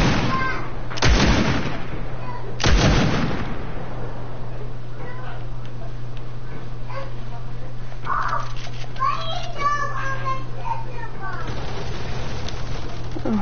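Heavy gunfire in a video game, with two loud booming blasts early on, followed by game sounds and excited talking over them.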